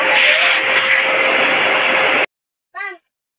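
Ingco 1200 W, 12-litre wet and dry vacuum cleaner (VC12121) running with a loud, steady whine and rush of air, then cutting off abruptly, followed by a short tonal blip.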